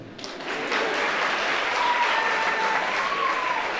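An audience at a college day celebration applauds, a steady dense wash of many hands clapping that swells in and holds loud for several seconds, with faint voices underneath.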